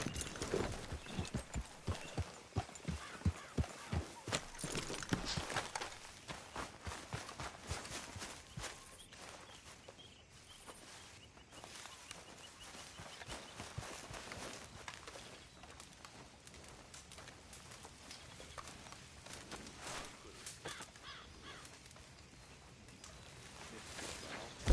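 A horse gallops in Red Dead Redemption 2, its hooves beating a fast, steady rhythm up close, with faint birdsong in the background and no speech.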